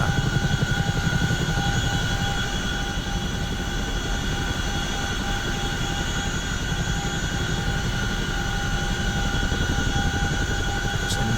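Engines and twin rotors of a CH-47F Chinook helicopter in the DCS flight simulator, a loud continuous turbine whine over rapid, even rotor thumping that stays steady throughout.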